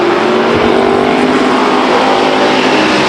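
Street stock race cars roar in a 30-lap main event at Stockton 99 Speedway, a loud, dense and continuous engine drone from several cars with no talk over it.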